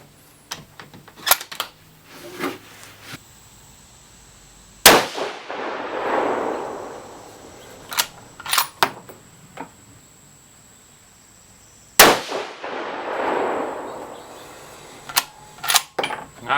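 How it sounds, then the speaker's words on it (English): Two loud rifle shots from a 6.5 PRC firing 123 grain SST rounds at a 100-yard range, each a sharp crack followed by a long rolling echo. Clicks and metallic bolt handling sounds fill the gaps between them. "Shooting the 123 grain SST."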